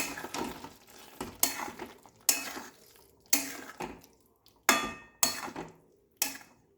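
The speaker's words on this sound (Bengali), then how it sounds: "কিছু নেড়ে মিশিয়ে নিচ্ছি" A spoon stirs Bengali-style no-onion, no-garlic dum aloo made with small new winter potatoes in a pan, giving about seven sharp clanking scrapes in an even rhythm, close and alone.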